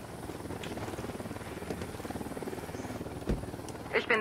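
Helicopter in the video game Ghost Recon Wildlands, a steady rotor drone with rhythmic pulsing held throughout, fairly close, with brief thumps and clicks from gameplay near the end.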